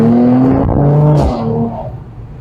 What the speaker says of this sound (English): We go in here, and we come in, and we come in deep, and then hold it and accelerate through.